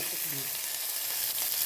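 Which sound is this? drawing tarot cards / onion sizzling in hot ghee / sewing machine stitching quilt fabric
onion sizzling in hot ghee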